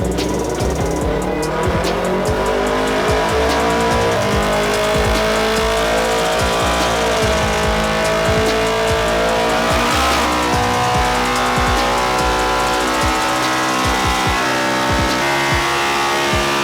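A loud stock engine roars and revs continuously on a dyno, its pitch rising and falling with bursts of throttle, with no voices over it.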